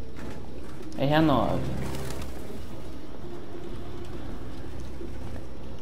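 Pigeons cooing in the video game Detroit: Become Human, low soft coos under a steady room hum, with a brief spoken word cutting in near the start.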